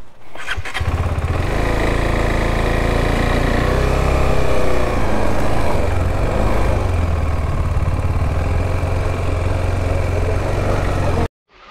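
A motorcycle engine runs close by at a parking spot near a park in Ravivalasa, a steady loud idle with slight revving for about eleven seconds before cutting off abruptly.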